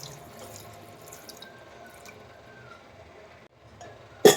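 Water trickles faintly into a pot of beef curry for several seconds, then a sudden louder splash of pouring water closes the moment.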